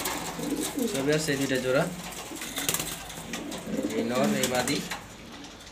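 Afsan grizzle pigeons, a male and female breeding pair with young, give two soft, rolling coos a few seconds apart, close by, while someone talks over them.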